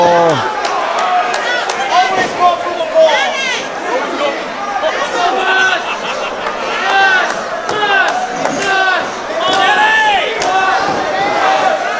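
Crowd at a live CCW Bash at the Brew 47 wrestling show, loud and continuous chatter and yelling around the ring, mixed with close commentary voices throughout.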